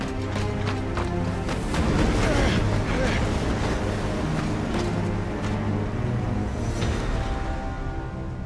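A howling windstorm vortex in the video game Final Fantasy XVI, a dense continuous roar of rushing wind and surging water-like noise that stays loud throughout, with voices speaking faintly underneath.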